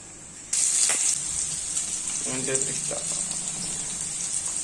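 Cumin and mustard seeds dropped into hot oil in a kadai, a sudden loud hiss of sizzling that starts abruptly and continues steadily at close range, with a voice speaking over it.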